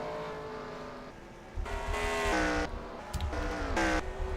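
Race cars in a video game race at Texas roar past, their engines revving and shifting pitch as they accelerate, with several cars blending into a loud, continuous drone.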